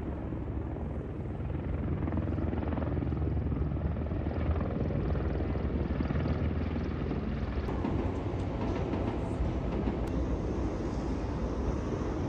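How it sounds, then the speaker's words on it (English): A helicopter flies over a bridge while trains cross it, heard as a steady, loud rotor and engine roar that holds across the whole clip, with no talk. "Buddy was pretty keen to see the trains that was crossing the bridge and the helicopter that flew over at the same time"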